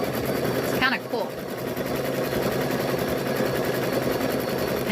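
A sewing machine runs steadily while sewing quilt squares of batik-style fabric, a continuous close mechanical whir throughout, with someone talking briefly over it.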